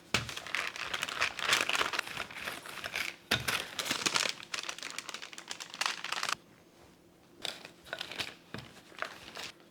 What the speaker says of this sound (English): I'm going to try to roll this between 2 separate sheets of parchment paper